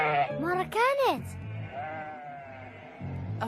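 Cartoon sheep bleat in a wavering, quavering cry in a Kurdish-dubbed animated series, loud and close, with voices talking around the bleats.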